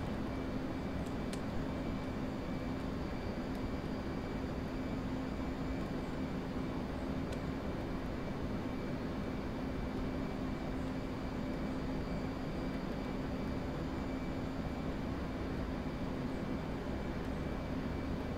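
F/A-18C Hornet jet engine accelerating in the DCS World flight simulator, a loud continuous roar with a steady droning tone, holding unbroken throughout with no talk.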